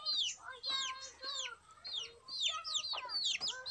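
Country chickens cluck and squawk repeatedly in short, uneven bursts, close and fairly loud, with no talking.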